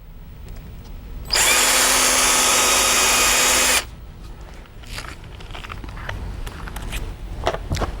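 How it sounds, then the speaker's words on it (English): A power drill bores a hole in a fence for a stainless steel screw, a loud steady whine lasting about two and a half seconds, then faint handling clicks and shuffling. "you also need to drill a hole in your fence for the screw to go into"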